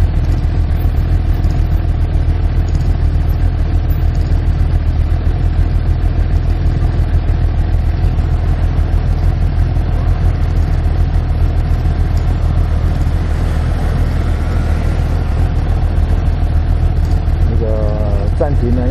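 A Suzuki GSX S750 motorcycle fitted with a Rapid Bike fuel computer and quickshifter runs loud and steady, its engine droning close up for a long stretch, with someone talking over it.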